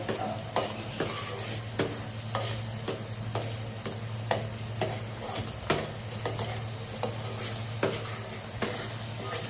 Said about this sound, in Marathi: हे बघा आपला मसाला चांगला परतून घ्यायचा आहे।